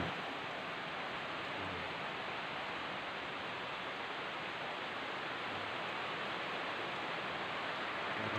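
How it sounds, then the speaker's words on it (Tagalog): Heavy rain pours steadily and close, a dense unbroken roar of water on surfaces, with wind blended into the wash; no talking is heard. "lakas na ulan"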